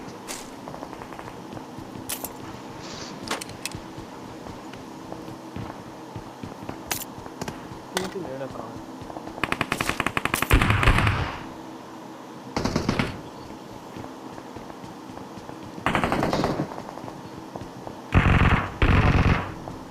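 Automatic gunfire from the BGMI battle royale game, heard in short rapid bursts and scattered single shots that stop and start across the stretch, with louder clusters near the middle and end.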